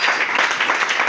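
An audience at a religious gathering bursts into a short, dense round of applause and cheering, close and loud throughout the brief moment.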